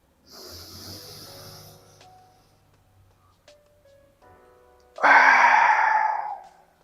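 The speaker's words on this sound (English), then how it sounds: "When you're breathing, try to breathe through your nose." Deep breathing through the nose, a long airy inhale and exhale followed by a quiet pause, then a stronger, louder rushing breath, close and alone without talk.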